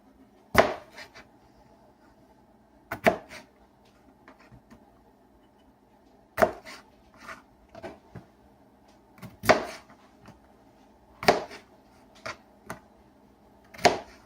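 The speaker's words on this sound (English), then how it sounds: "I'm just about to cut these potatoes into cubes" Knife chopping potatoes into cubes on a cutting board, a series of sharp, separate chops with uneven pauses over a steady low background hum, with no voices.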